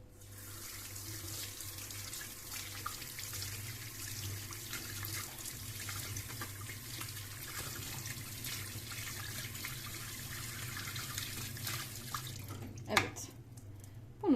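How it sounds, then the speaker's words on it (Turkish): A washing machine's detergent drawer part, caked with limescale and residue, is rinsed under a running tap, giving a steady, close rush of water that runs throughout, with a few knocks and splashes near the end. "Bunu da şöyle bir sudan sabunlu bezden geçireceğim ve durulayacağım"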